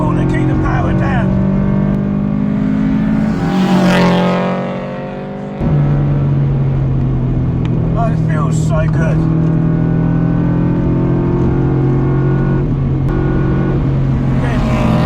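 Subaru BRZ with upgraded race-spec brake rotors driven hard through corners, its engine droning loudly and rising and falling in pitch as it revs, with a brief dip between gears; a driver talks over it.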